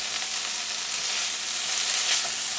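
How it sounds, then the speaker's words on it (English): Eggplant cubes sizzle steadily in a hot pan for a keto creamy eggplant dish, a close, continuous hiss of frying with faint stirring scrapes and no talking. "the eggplant's been cooking for about 8 minutes, and I have been stirring it in between"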